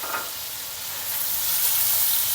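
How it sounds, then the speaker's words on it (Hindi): Chicken karahi with added yogurt frying over high heat, a loud continuous hissing sizzle that swells slightly toward the end, close up and without any voices. "अब दही डाल के अब हम इसको फिर 1 से 2 मिनट तेज़ आंच पे भूनना है।"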